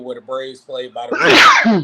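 A man sneezes loudly and sharply close by, right after a stretch of his own talk about Atlanta stadiums, with a brief breathy burst that trails off.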